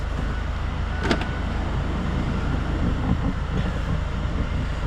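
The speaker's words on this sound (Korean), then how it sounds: "다시 문을 닫도록 하겠습니다." A rear door on a fourth-generation Kia Carnival Noblesse nine-seat minivan shuts with a brief solid thump near the one-second mark, followed by faint rattles and a steady low cabin hum.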